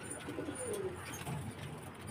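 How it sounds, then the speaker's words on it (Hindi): Pigeons coo softly in a steady, moderately quiet stretch, low throaty calls rising now and then over a constant background hum, with no one talking. "ये कबूतर पूरे फ्रेश है।"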